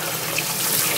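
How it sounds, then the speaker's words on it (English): Running tap water splashes steadily as food is rinsed in a sink, a close, continuous hiss with no pauses. "we're gonna rinse them off."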